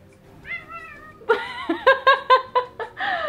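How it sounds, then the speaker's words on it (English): Domestic cats meow close by, a drawn-out call followed by a quick run of short, evenly spaced meows and a longer final cry. "People requested cats. Where are my cats? Cats!"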